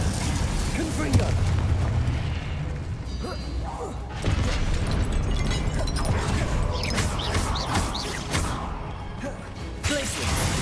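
Confringo fire spell blasts in Hogwarts Legacy, booming fiery bursts and crackling impacts over a dense, continuous rumble of game effects, with a voice calling out spells.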